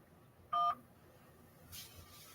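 A single short telephone keypad DTMF tone sounds once to accept an incoming call on a call-in line, clear and alone against quiet background hiss, followed later by a soft brief noise.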